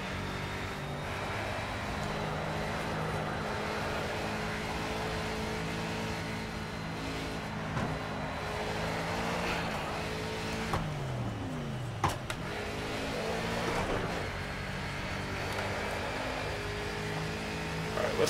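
A GT4 race car engine in Project CARS career qualifying at Watkins Glen, a continuous droning engine note that rises and falls with revs and gear shifts over about eighteen seconds.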